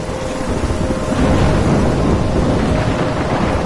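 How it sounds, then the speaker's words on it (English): Thunderstorm in the video game Life is Strange, a steady roar of heavy rain with a deep rolling rumble of thunder that swells partway through and holds loud to the end, with no voices. "The storm?"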